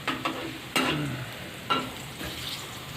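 Onions for a potato and vegetable biryani fry in a pan with a steady sizzle, broken by a few sharp scrapes of stirring.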